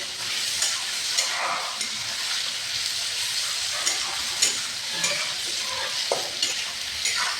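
Tomato, potato and puti fish curry being sautéed in a pan, a steady loud sizzle with scraping stirs recurring throughout, close up.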